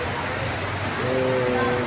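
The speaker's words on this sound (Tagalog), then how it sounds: "umuulan. Ang lakas talaga ng ulan guys" Heavy rain pours steadily in Tubigon, Bohol, a dense, continuous broadband hiss that thickens slightly partway through, with a faint tonal hum beneath it.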